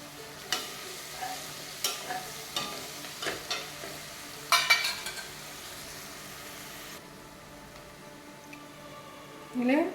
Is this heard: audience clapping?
no